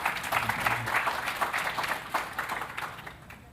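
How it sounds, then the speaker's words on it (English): An audience at an international blue carbon and wetlands conference session applauds, a steady, moderately distant patter of clapping that fades toward the end. "please, applause for Faybion"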